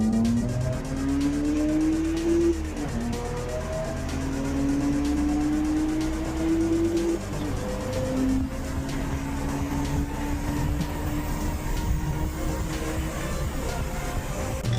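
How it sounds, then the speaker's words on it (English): A BMW runs at speed on the German autobahn, heard as a loud, constant engine and road roar. Rising engine tones step up through the gears as it accelerates, with no talk over it. "We're going to be hopping on the autobahn."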